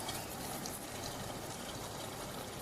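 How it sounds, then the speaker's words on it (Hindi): Lemon juice poured into a pot of Shahi Gosht, a steady close liquid pour with a continuous gushing wash that runs unbroken for a few seconds, with no talking. "अभी मैं इसमें नींबू का रस डालने लगी हूँ"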